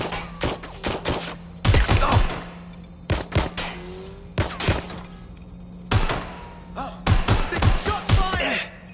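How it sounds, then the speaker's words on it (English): Bursts of gunfire in Watch Dogs Legion come in irregular clusters of sharp, loud shots with short gaps, alongside game sounds and shouted voices. "Shots fired!"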